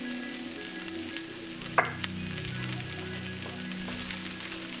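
Shrimp sizzle in a hot pan for fried rice, a steady broadband fry crackling throughout at moderate level with a low steady hum underneath and a couple of brief utensil clinks near the middle.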